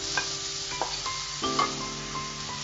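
Grated raw plantain is stirred in a pan for a Tamil podimas dish, making soft scraping and gentle sizzling close by, with a few light knocks and a faint tonal hum underneath.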